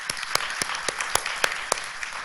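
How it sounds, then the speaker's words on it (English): An audience applauds panel speakers at the close of a policy conference on nuclear non-proliferation, a continuous patter of many hands with a few sharper, louder claps standing out above the crowd. "please join me in giving the round of applause to our speakers"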